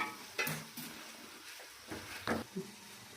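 Tomatoes frying in a pan for chicken curry, faint low sizzle with a handful of soft spatula scrapes spaced irregularly, no talk.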